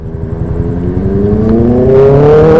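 A big motorbike passes close by on a road during a long-distance ride through Camarines Sur, its engine note rising steadily and growing louder over about two and a half seconds with no talk.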